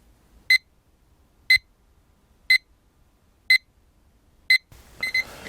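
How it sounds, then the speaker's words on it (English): A TempMinder temperature monitor alarm sounds five evenly spaced short electronic beeps about one second apart, clear and close in a quiet room, before a burst of handling noise at the end. "So whenever it hits, it's going to start beeping and the screen will also light up."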